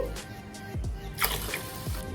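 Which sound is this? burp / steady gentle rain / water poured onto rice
water poured onto rice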